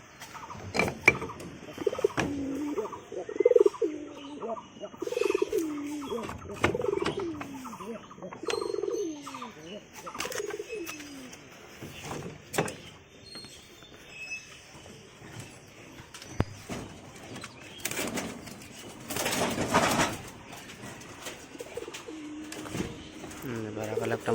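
Pigeons coo in repeated low throaty phrases in a backyard loft where a young pigeon is kept, with creaks and clatter around them and people talking intermittently nearby.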